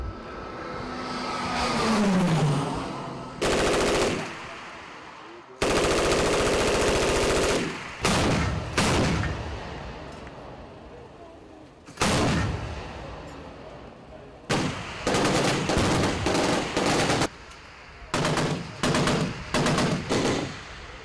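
Military firepower demonstration by the Nigerian Army with artillery guns, armored tanks and air platforms, with loud bursts of gunfire and blasts repeating at irregular intervals between rumbling engine noise.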